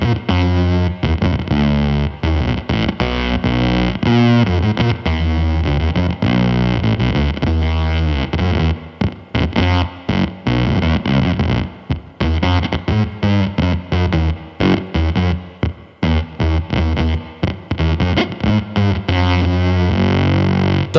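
A Pigtronix Space Rip synth pedal set an octave down gives a loud, distorted, buzzing synth tone that plays a continuous run of choppy, pulsing notes with no talking.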